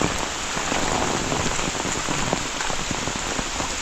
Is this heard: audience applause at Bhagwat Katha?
no